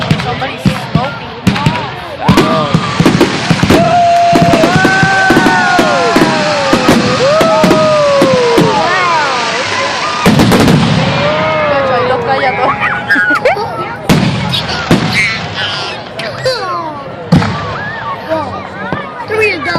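Fireworks at a 2014 outdoor show burst in repeated booming explosions, some with whistling rising tails and crackling trails, loud and near, while a crowd murmurs and people comment throughout.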